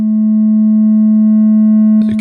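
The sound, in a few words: Shakmat Centaur's Gates synth module, sine VCO with parallel distortion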